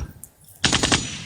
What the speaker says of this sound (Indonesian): Tembak aku Bang Juma, tembak dulu.